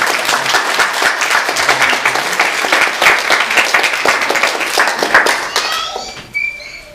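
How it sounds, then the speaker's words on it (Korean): Sustained applause from a church congregation, dense rapid clapping that tapers off near the end into quieter scattered sounds. "잘 다녀오라고 박수를 드립니다."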